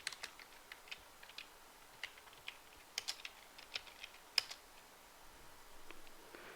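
Keys clack on a computer keyboard as DOS commands are typed to launch the Battlezone game, with scattered quick keystrokes in uneven bursts, close and fairly quiet, with no voices.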